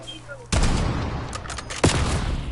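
Rapid bursts of video game gunfire break out suddenly after a quiet moment, with sharp cracks rattling in quick succession, then a second loud volley hits near the end.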